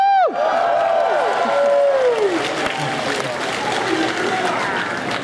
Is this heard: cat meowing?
no